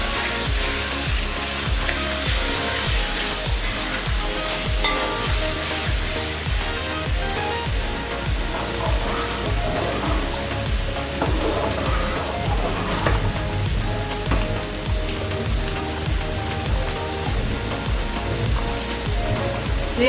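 Green chillies frying and sizzling in a pan while Chicken Haleem is cooked, giving a steady, dense hiss with crackling pops throughout and no talk.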